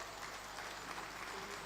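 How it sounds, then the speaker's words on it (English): Faint, distant audience applause at an engineering assembly technical session, a steady wash of clapping that stays low and even throughout. "Please, can we give him another round of applause?"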